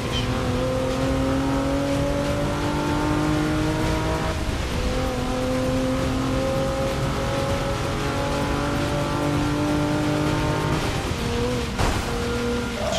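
Engine of a purpose-built race car in the Forza 6 racing game, a loud sustained roar climbing through gears with brief drops at each shift, continuous and close.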